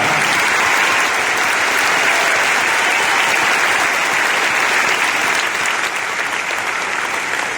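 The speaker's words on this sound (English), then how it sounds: "yeah, you can clap." Audience at a talk by the Duck Dynasty figures in Auburn, Alabama bursts into sustained, loud clapping that stays dense and steady throughout, with no speech over it.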